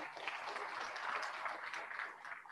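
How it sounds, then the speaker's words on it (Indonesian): Audience applause at a university rector's inauguration ceremony, a dense, steady wash of clapping from a crowd throughout, fairly even in level with no voices standing out. "Tepuk tangan."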